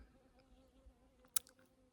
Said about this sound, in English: I'm kind of being swarmed by bees right now.